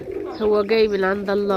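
Domestic pigeons, stray tower birds drawn to a rooftop loft with food, cooing in a few soft, close, rounded calls while someone speaks over them.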